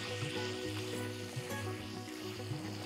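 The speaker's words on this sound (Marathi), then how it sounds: "आता मसाल्यात छान ही परतून घेऊया." Chicken pieces sizzle steadily as they are sautéed in a chutney masala, a continuous close frying hiss with a few soft stirring knocks spaced through it.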